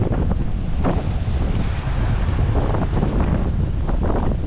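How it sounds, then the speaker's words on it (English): Strong wind buffets the microphone at a Los Angeles beach beside the ocean, making a loud, continuous roar with gusty bursts. Surf can be heard underneath, and there is no talking. "Wow, the wind is really blowing out here today."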